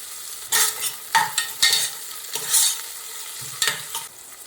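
A spoon scrapes and stirs onion and spices frying in a pan. Irregular scraping strokes sit over a steady background sizzle, close and moderately loud, with no talking.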